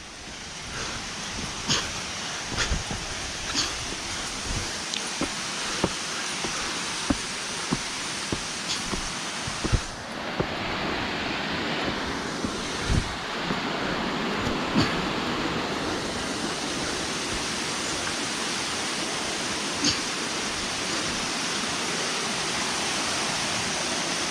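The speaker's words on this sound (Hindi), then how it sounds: "वाटरफॉल पे पहुंच गए" A waterfall on the Triund trek near Dharamshala gives a steady broad rushing roar with occasional faint ticks and knocks, heard alone without voices.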